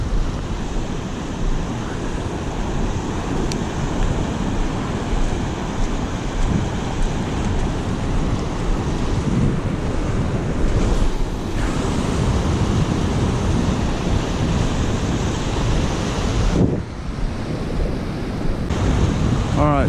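Ocean surf rolling onto a beach at sunrise where someone is surf fishing, a steady, loud wash of breaking waves with wind buffeting the microphone throughout and a brief dip near the end.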